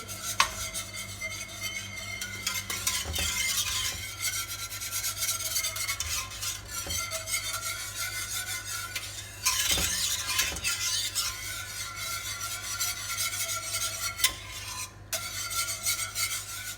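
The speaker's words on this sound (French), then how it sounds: "Et je remue jusqu'à ce que je sens, en remuant, que ce soit bien épais." A spoon scrapes and rubs steadily around a pot of flan mixture over very low heat, a continuous rasping stir with occasional sharper clinks against the pan, close and fairly loud with no talking.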